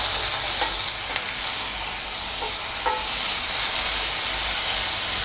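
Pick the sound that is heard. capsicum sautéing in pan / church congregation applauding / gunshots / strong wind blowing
capsicum sautéing in pan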